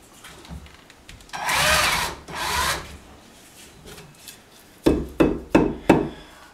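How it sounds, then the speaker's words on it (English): A power drill whirs in two short bursts, then several quick, sharp pulses follow as a screw is driven into wood. "Let me screw that sucker in"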